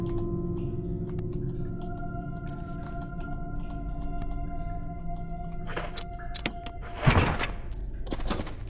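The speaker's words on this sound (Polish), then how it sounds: "No, i drzwi nam się otworzyły" A door opening in the Resident Evil Remake video game, with sustained low eerie ambient drones before a series of sharp mechanical clanks and a heavy thud, medium loud with no talk.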